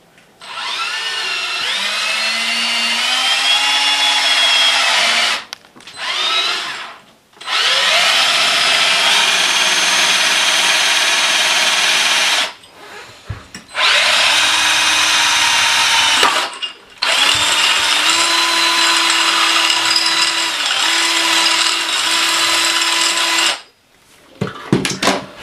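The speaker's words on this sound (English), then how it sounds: "we need to drill here to put the wire" Power drill boring a hole for a wire while fitting a slider, a loud continuous whine running in several long bursts with short pauses between them, no speech over it.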